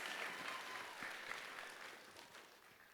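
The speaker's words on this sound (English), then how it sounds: "Please give a round of applause." An audience at the Jakarta International Science Fair 2025 opening ceremony gives a faint, distant round of applause that thins out and fades over a few seconds.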